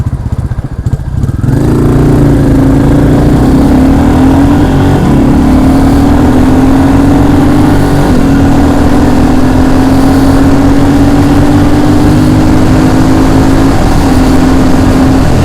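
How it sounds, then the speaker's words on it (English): Modified Royal Enfield Classic 350 motorcycle accelerating hard to 60, a loud steady engine drone rising in pitch through the gears, close and continuous with constant wind rush and no talking. "I'm on the bike with the mods on it."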